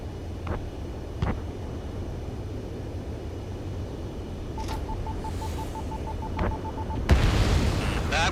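A radar vehicle blows up in the combat flight game Ace Combat 7: Skies Unknown, giving a few sharp distant booms over a steady aircraft drone, a short beeping tone, and then a louder burst near the end.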